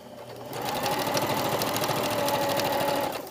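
A sewing machine stitches a jacket sleeve seam in one loud, continuous, rapid mechanical whir that holds a steady rhythm for about three seconds, up close with no talk.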